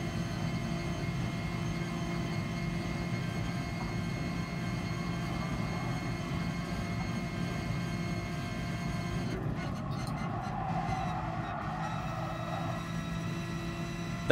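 A racing car engine in the driving game GT Sport holds a steady drone in 6th gear, a constant moderately loud hum with a brief rise in noise near the end.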